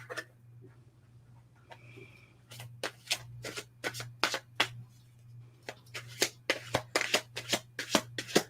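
Tarot cards being shuffled at close range, soft riffling at first, then a quick rhythmic run of sharp flicks and slaps growing denser toward the end over a low steady hum.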